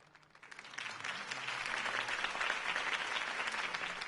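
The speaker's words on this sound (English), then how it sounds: "could have heard that applause" A crowd in the Batman Telltale video game breaks into applause, building quickly from quiet into a sustained, fairly faint wash of clapping that carries on to the end.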